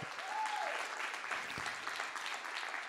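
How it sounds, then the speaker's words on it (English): Steady applause from a church audience fills the space, the clapping dense and continuous throughout with a faint voice briefly rising near the start. "Come on, keep on clapping"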